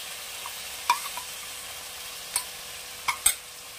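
A curd and spice paste goes into a hot pan for Rajasthani dhaba-style chana dal, bringing a soft, steady sizzle punctuated by a few sharp utensil clicks against the pan.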